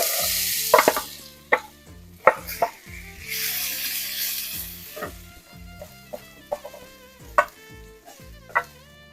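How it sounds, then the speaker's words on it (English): Mustard seeds crackle and potatoes fry in hot oil with hing, giving a close sizzle with scattered sharp pops and the clink of stirring in the pan. "Now you can hear the cracking of the mustard seeds."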